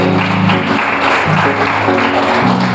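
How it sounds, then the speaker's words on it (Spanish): Church congregation applauding during a sermon, a dense continuous burst of clapping with music or singing tones underneath, close and fairly loud. "Dale un aplauso al que vive y reina."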